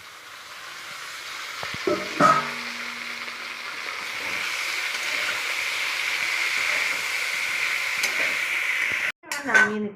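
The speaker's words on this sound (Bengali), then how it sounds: "নুন দিয়ে ভালো করে আলুটাকে ভেজে নিচ্ছি আলু ভাজছি আলুর সঙ্গে পালং শাক দিয়ে দিচ্ছি" Salted potatoes and spinach frying in hot oil give a steady, close sizzling hiss, with a couple of utensil clinks against the pan near the start and again at the end.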